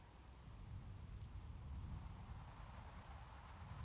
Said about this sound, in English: Still raining a bunch.